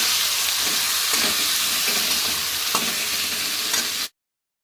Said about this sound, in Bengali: এই যে পেঁয়াজ আর এই রসুনগুলো দিয়ে দেব একসাথে ভালোভাবে ভেজে নেব